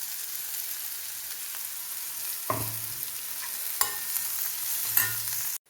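Turmeric and chili powder frying in hot oil for fish curry, a steady hissing sizzle with a few sharp clinks of a spoon against the pan, close and even in level.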